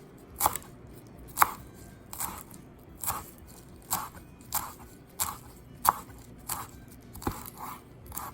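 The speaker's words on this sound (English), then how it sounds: "we would take a 3 to 4 stalk of cilantro and chop it coarsely" A knife coarsely chops a few stalks of cilantro on a board: about ten crisp, evenly spaced chops, close and distinct against a quiet background.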